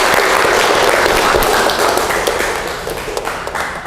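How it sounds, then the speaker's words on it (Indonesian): A classroom of students applauding a classmate, a dense, loud wash of many hands clapping together that holds steady, then gradually thins and fades. "Tepuk tangan untuk Rifa ya"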